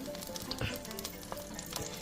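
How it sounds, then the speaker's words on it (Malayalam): Sunflower oil heating in a pan for chicken kurma, giving a close, steady crackling sizzle throughout a brief moment. "ചട്ടി ചൂടായതിന് ശേഷം എണ്ണ ഒഴിച്ചിട്ട്, സൺഫ്ലവർ ഓയിലാണ് ഞാൻ ചിക്കൻ കുറുമ ഉണ്ടാക്കാൻ ഉപയോഗിക്കുന്നത്"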